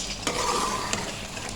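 Chicken malai handi masala is stir-fried in a pan with a continuous close sizzle, and two brief spatula knocks against the metal punctuate the frying.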